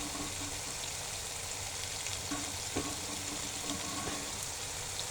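Diced potatoes sizzle steadily in an oiled pan for aloo bhaji, a close, even crackle with occasional soft stirring scrapes and no talking.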